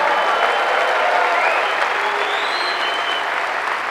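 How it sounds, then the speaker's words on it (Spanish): Steady applause from a church congregation at a pastors' conference fills the space, a dense, continuous wash of many hands clapping at an even level throughout, with faint voices mixed in. "Dale un aplauso."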